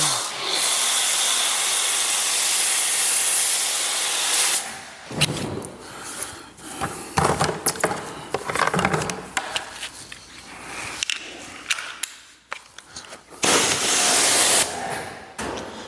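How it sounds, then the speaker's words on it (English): A pressure washer blasts water over car brakes in a loud, steady hissing roar that breaks into choppy, irregular bursts before the full spray returns near the end. "the key is to blow out the stuff that's in there, and so that's where a pressure washer becomes so useful"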